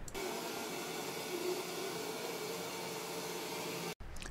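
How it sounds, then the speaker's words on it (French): A Hosome robot vacuum and mop cleaner runs with a steady, soft whirring hiss at close range, fairly quiet and unbroken until a brief cutoff near the end. "Je vais vous faire écouter un petit peu le son pour que vous voyez qu'il est silencieux également."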